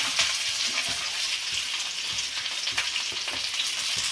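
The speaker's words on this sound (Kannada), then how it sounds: "ಈ ಈರುಳ್ಳಿ ಸ್ವಲ್ಪ ಬ್ರೌನ್ ಕಲರ್ ಬರೋ ತನಕ ನೀಟಾಗಿ ಡ್ರೈ ಮಾಡಬೇಕು" Chopped onions with fenugreek leaves and mint fry in oil for a chicken tandoori dish, giving a steady, close hiss and crackle with soft stirring knocks throughout and no talking.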